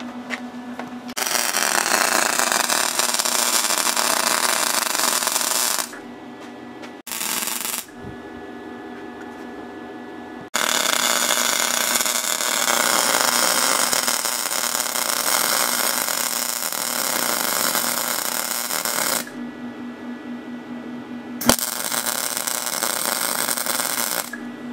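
A Harbor Freight 170 wire-feed welder buzzes and crackles steadily while welding a tapered crankshaft, in long continuous runs broken by brief pauses, close and fairly loud.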